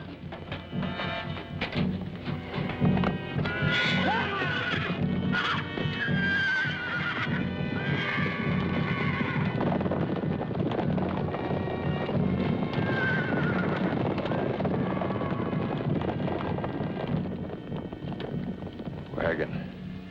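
Several horses whinny and snort over the thud of hooves, a busy, loud scene with voices mixed in.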